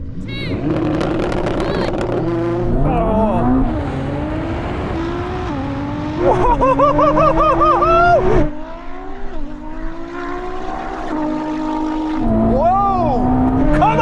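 Ferrari SF90 and a 1000 hp Nissan GTR racing side by side: loud engines rev hard with rising pitch sweeps through repeated gear changes, close and continuous over the whole stretch, with occasional shouting over the noise.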